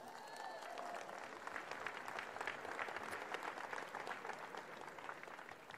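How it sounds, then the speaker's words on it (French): A large audience applauds with dense, even clapping that stays faint and distant for several seconds. "Vous pouvez les applaudir."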